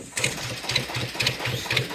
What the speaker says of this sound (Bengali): ট্রলারটি স্টার্ট দিয়ে আমরা সামনের জালের দিকে যাব